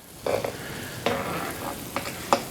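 Johnny cakes frying in bacon grease and butter on a medium-hot griddle, a steady close sizzle with a few sharper bursts as the cakes are moved around, no voices.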